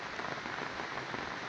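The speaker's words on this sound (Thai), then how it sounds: "ตอนนี้ฝนตกนะครับตอนนี้ฝนตก" Steady rain pours down outdoors beside a cement-ring charcoal kiln, a dense, even hiss of drops striking surfaces with no break and no voices.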